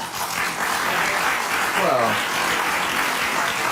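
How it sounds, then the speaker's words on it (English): Audience applause at a televised talk segment: a steady wash of clapping that holds at an even level for a few seconds, with a brief voice cutting through partway. "notice the round of applause there, because everybody relates to that"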